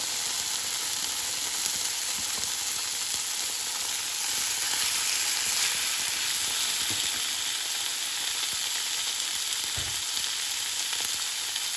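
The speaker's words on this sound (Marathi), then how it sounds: "आतां तेल घालें फ्रायींग पॅनान, त्या ऑलरेडी तेल गरम जाला आनी आतां तेजेर सालमन फ्राय करुया" Salmon frying in already hot oil in a frying pan, a continuous loud sizzle holding steady throughout with a few faint clicks and taps beneath it.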